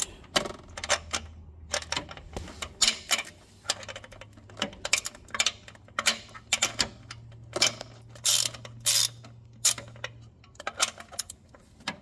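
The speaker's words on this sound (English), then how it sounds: "See if we can get a ratchet on this one." A ratchet clicks in quick, uneven bursts of sharp ticks while a supercharger kit bolt is tightened down on a 1999–2005 Mazda Miata, close and crisp with short pauses between strokes and a faint low hum beneath.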